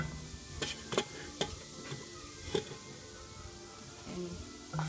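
Flour is stirred into hot oil for a roux, giving a soft sizzle under scattered sharp scraping and tapping of a utensil against the pan, irregular strokes close by with no talk.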